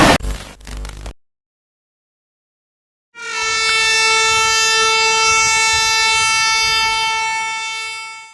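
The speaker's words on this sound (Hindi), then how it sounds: "सामने से आ रही है दोस्तों न्यू दिल्ली शालमार अगरतला तेजस राजधानी एक्सप्रेस" The oncoming Tejas Rajdhani Express from New Delhi to Agartala sounds a loud, sustained horn close by after a short noisy burst and a few seconds of silence. The blast holds steady to the end.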